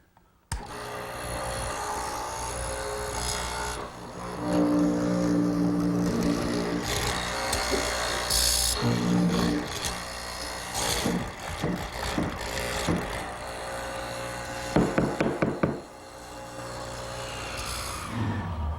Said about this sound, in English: I'm ready to make 2 mortises in each leg.